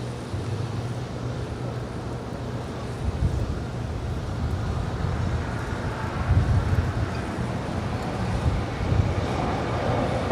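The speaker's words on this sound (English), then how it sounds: "Our next departure is JetBlue Airways Flight 1524 heading to JFK. They're in New York. It's an A321 Neo." JetBlue Airways Airbus A321neo jet departing LAX, a steady broad roar of engines with low rumble that swells slightly over time, heard from a distance without talk.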